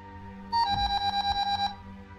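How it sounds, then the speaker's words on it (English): A phone alarm going off, a rapid series of bright electronic beeps in a steady pulsing pattern lasting about a second, loud and close, with no talking. "I jumped to the sound of my alarm going off."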